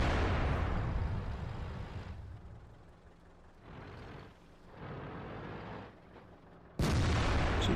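A tank cannon in World of Tanks fires blind at a target, loud booming blasts with long rumbling tails, one cutting in abruptly near the end.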